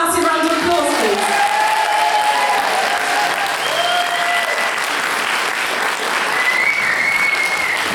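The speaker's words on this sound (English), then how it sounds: "Can we give him a massive round of applause, please?" Audience at a spiritual awards ceremony in Wales giving a loud, sustained round of applause with some cheering and whoops, continuous and full from start to finish.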